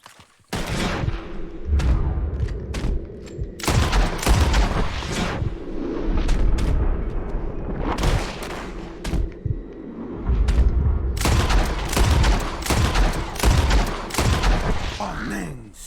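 Rapid gunshots ring out in a Red Dead Redemption 2 bird-shooting contest, loud overlapping volleys fired in dense bursts, with a short lull in the middle.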